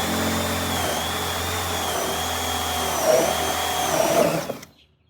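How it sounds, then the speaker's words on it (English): A drill fitted with a step bit bores a 3/4 inch hole through a cabinet, a steady loud whine for about four seconds that swells as the bit bites near the end, then spins down and stops. "we're gonna take a step bit and we're gonna drill a hole"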